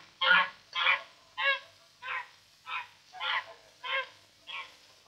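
Domestic geese honking in a steady series of about eight loud, evenly spaced calls close by, with no other sounds between them.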